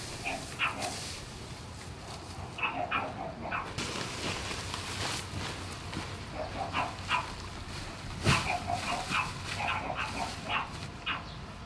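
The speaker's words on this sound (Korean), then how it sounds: "내 모습을 본 아이들은 신나게 짖기 시작한다" Several dogs barking excitedly in a front yard: bursts of yips, bow-wows and whimpers come in irregular clusters at close-to-moderate distance over a faint background, with no talking.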